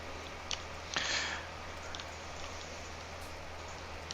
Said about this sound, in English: It's because of the rain, of course,